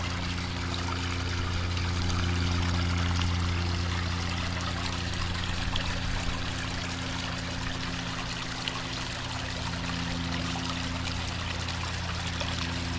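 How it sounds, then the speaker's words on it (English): Water pours steadily over split waterfalls into a koi pond, a continuous broad rushing and trickling wash heard close and unbroken, with no voices. "What a change to the split waterfalls."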